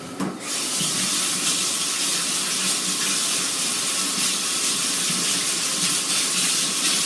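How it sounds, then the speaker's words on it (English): A kitchen tap runs steadily while hands are washed under it, a close, continuous broadband water rush and hiss that holds level from start to finish without pause. "And then I need to wash my hands"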